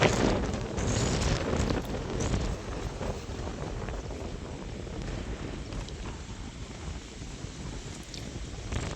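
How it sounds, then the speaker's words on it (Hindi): Strong mountain wind in a Himalayan village roars and buffets the microphone continuously, loud and broadband, easing slightly after the first few seconds with no voices. "इतनी तेज हवाएं हो रही है"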